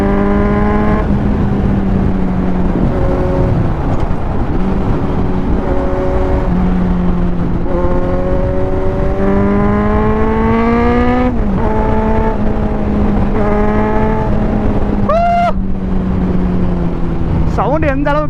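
A 2024 Kawasaki Z900 motorcycle is ridden at speed, its engine note rising and falling through gear changes under heavy, constant wind roar. The rider talks over the engine at times.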